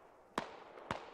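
Two sharp gunshots from a military shooter video game, spaced about half a second apart at moderate distance, each with a brief echoing tail over a steady background hiss.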